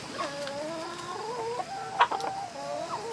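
A rooster in a chicken coop clucks repeatedly, puffed up and guarding the hens, with a few sharper louder clucks near the middle; close and clear, no talk.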